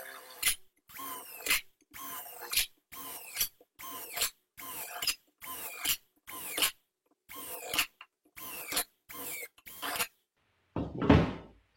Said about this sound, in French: je vais simplement venir percer de manière un peu anarchique le bas de la console.